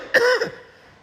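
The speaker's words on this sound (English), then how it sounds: "That's smoker cough." A single short, rough smoker's cough rings out close up, then quickly fades to quiet.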